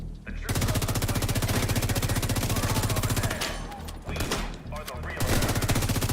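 Rapid automatic weapon fire in the shooter The Division 2 rattles close and loud in long, evenly spaced bursts, broken by a couple of brief pauses.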